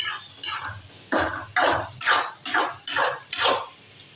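Egg being stirred continuously in a kadhai, a spoon scraping and tapping the pan in about seven regular strokes, each a short wet rasp, close and fairly loud with no talk.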